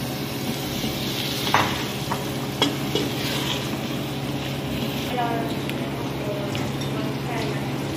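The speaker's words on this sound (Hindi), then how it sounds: "इसको आपने अच्छी तरह भूनना है आलू को कीमे के साथ" Diced potatoes and minced meat (qeema) fry in a pan with a steady sizzle, while a utensil stirs and scrapes with a few sharper knocks against the pan.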